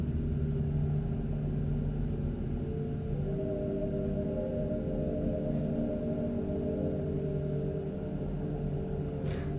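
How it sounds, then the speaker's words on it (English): Synthesizer emulation sounds played in a home studio: a low, sustained drone of layered tones that holds steady, with a faint swell partway through and a few soft clicks, no voice. "This is something I did here in my studio using some synthesizer emulations."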